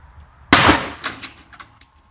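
A 5-gram firecracker goes off inside a washing machine as one sharp, muffled bang, followed by a few fainter rattles and knocks of debris settling, then quiet.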